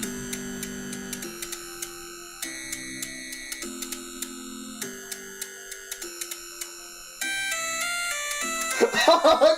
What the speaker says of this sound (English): there actually is Doki Doki Literature Club ringtones